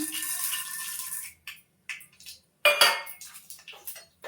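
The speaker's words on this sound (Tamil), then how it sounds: "கடுகு பொரிஞ்சிடுச்சு, உளுத்தம் பருப்பு போட்டுக்கலாம்." Urad dal tipped into a pan of spluttering mustard seeds: metallic clinks and rattles of utensils against the pan, in short separate bursts with quiet gaps, close and fairly loud, with no talking.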